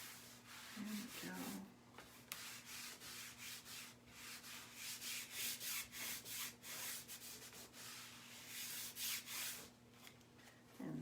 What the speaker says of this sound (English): And flip these over because we're going to do both sides. So we'll wax both sides.